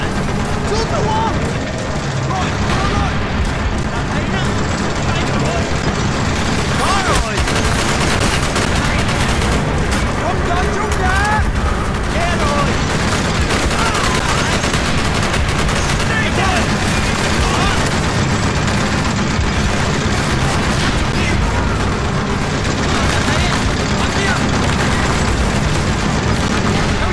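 Constant gunfire and explosions in the video game Call of Duty: Black Ops fill a long, loud, dense battle scene, with shouted voices mixed in under the shooting.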